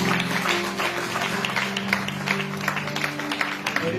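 A church congregation applauding, a steady wash of clapping hands that carries on for several seconds at moderate loudness, with faint voices mixed in.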